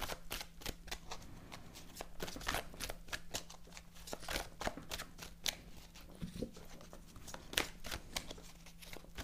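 Tarot cards are shuffled by hand at close range ahead of a three-card reading, giving a series of crisp riffling and slapping bursts, with a faint steady hum underneath.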